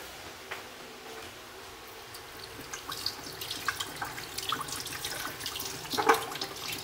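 Something being washed under a running kitchen tap: a steady stream of water with splashes and clinks that grow busier toward the end, close and moderately loud, with no talking.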